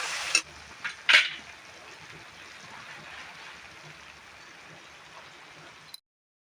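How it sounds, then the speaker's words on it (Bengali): Spice paste with a little chili powder fried in a pan, a few quick stirring scrapes up front followed by a soft, steady sizzle that cuts off abruptly. "এখন মশলাটা ভালো করে কষিয়ে নেব"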